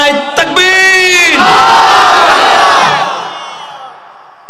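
A large crowd at a Bangla Islamic sermon roars a takbir in unison after a leader's call, a loud sustained chorus of voices that swells and then fades out.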